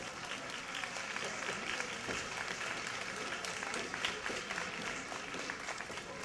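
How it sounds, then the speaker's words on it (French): An audience applauds in a dense, continuous wash of clapping that holds at an even level from start to finish. "oui, ils applaudissent"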